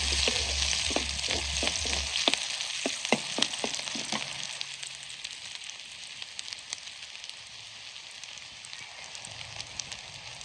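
Mustard oil sizzles steadily in a cooking pot, a dense hiss with a few sharp crackles early on that settle into an even, close fry with no talking.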